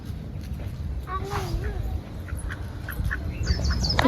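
A duck quacks a few times nearby, short nasal calls over a steady low outdoor rumble and background voices.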